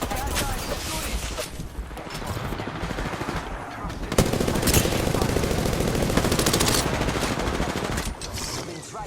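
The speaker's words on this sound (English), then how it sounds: "They're shooting." Rapid automatic gunfire in Apex Legends, dense bursts of shots rattling on for several seconds, loud and close, with a voice talking over part of it.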